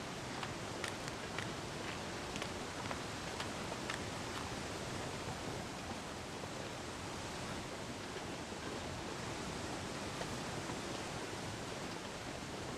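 A large waterfall in the survival game The Long Dark, heard as a steady, dense rushing roar that stays constant and fairly distant with no pauses.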